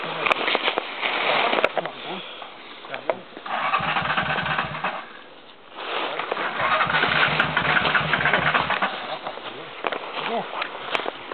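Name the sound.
trying to start a flooded motorcycle on a trail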